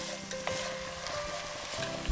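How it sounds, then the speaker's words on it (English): Filling for a Sicilian Christmas lasagna sautéing in a pan, a soft, continuous sizzle and crackle with occasional stirring scrapes and a light knock at the end, fairly faint and with no talk. "Allow all this to saute for about 2 to 3 minutes before adding my famed tomato"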